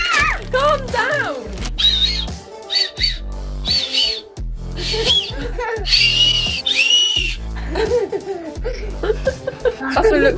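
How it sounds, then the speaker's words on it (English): Candy whistle sweets blown in short, shrill squeaky toots, several bursts mixed with a child's laughter, squeals and talking close by. "They are whistles, aren't they?"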